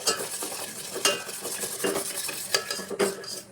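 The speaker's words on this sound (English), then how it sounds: "boil this liquid in a pan for 2 minutes in a low to medium flame and stir continuously" A spoon stirs liquid in a pan over a low to medium flame, giving repeated scraping clinks against the metal over a soft background sizzle, close and steady with no talk.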